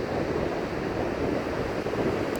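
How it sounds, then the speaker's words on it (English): Ocean surf at Caspar Beach, a dense, loud, continuous roar of waves mixed with wind buffeting the microphone, with no speech. "And wait for the waves to go back."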